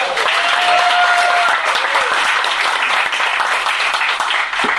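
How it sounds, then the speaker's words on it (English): An indoor audience at a launch party applauds loudly and steadily for a band that has just played, dense clapping filling the whole stretch with a brief whistle near the start. "let's give them another round of applause"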